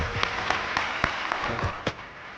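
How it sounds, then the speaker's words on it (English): An audience at a rebranding event claps sparsely, a thin scattering of distinct handclaps at moderate distance, quiet and irregular. "Please clap for these people"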